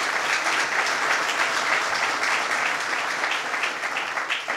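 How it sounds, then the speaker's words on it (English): Sustained audience applause at an outdoor state park announcement, dense, even clapping from a crowd holding steady throughout, fairly close and loud with no speech over it. "Let's give Bill a round of applause."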